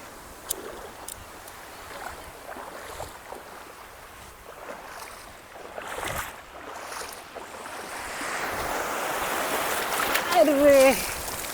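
Strong sea waves surge and wash in at Varsoli Beach in Alibag, a broad rushing roar that swells louder toward the end, with voices talking and calling over it.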